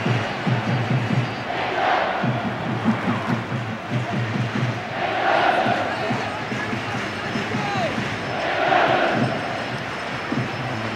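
Large football stadium crowd of about 71,000 at an England v Georgia World Cup qualifier, a steady roar with swelling surges of cheering, heard under a commentator's voice.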